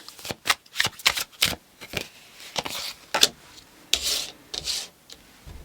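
Tarot cards being shuffled: a run of crisp riffling bursts and soft rubbing swishes in irregular rhythm, close and fairly loud, with no talking.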